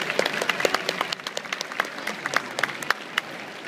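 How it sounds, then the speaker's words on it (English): Audience applause for a final act at a show, a scattered crowd clapping steadily with sharp individual claps standing out, moderately close and without speech. "Big round of applause, everybody, for our final act."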